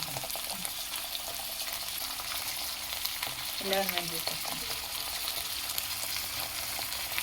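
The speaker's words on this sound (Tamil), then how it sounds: "சின்ன வெங்காயம் போடுறீங்களா? போட்டு வணக்கி" Small onions, cumin and curry leaves sauté in oil, giving a faint, steady frying hiss throughout with soft stirring scrapes and a brief bubbling swirl near the middle.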